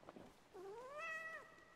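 A single cat meows in the Hades II video game, one drawn-out rising and falling call, clear and close against a quiet background.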